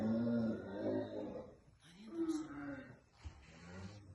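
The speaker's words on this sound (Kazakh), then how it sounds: "Түйенің дауысы өте тамаша балалар" A deep, throaty camel groan rumbles and gurgles, followed by a couple of shorter rough calls with pauses between.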